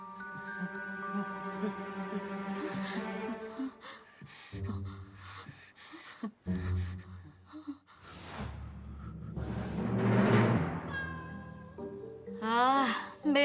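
A cat in a tense Korean drama scene lets out repeated long, wavering meows and yowls, close and loud, mixed with startled gasps and heavy breathing from people nearby.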